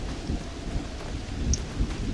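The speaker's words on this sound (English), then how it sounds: "it is raining in real life here at my place today" Steady heavy rain falls outside a room with rumbling thunder underneath, a dense, continuous wash of sound with low rolling swells and no voices.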